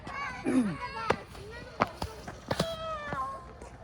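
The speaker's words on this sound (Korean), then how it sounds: "고양이 추운 거 싫어하는가 봐" A cat meows several times outdoors at a cold playground, short plaintive cries mixed with children's voices and nearby talk.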